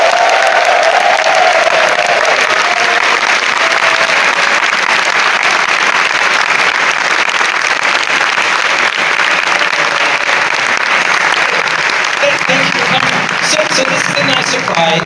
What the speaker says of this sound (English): if you can give a huge round of applause to Rodos Soyagas.